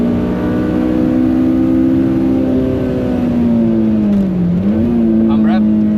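Honda Civic driving laps on the Nürburgring, a loud sustained engine drone inside the car with the pitch easing down and then rising again, heard alone without talk.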